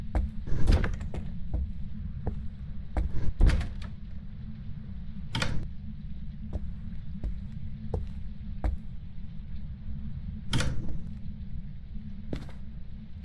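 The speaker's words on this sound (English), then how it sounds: "I heard your door." Game door sounds in a Phasmophobia ghost-hunting session: sharp clicks and knocks scattered through the clip, a louder cluster near the start and a few later, over a steady low ambient hum with no talk.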